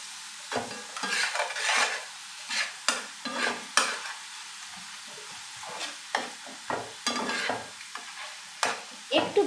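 Salted pieces of Katla fish fry in a hot pan, a close, steady sizzle broken by repeated scraping strokes of a spatula stirring them at an uneven rhythm.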